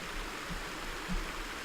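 Waterfall pouring in a Call of Duty: World at War custom map, a steady watery rush with faint low thumps, constant and fairly soft, with no voices over it.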